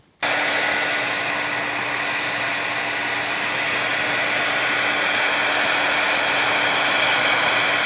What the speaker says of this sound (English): I just warm up the plastic with one of my wife's old hair dryers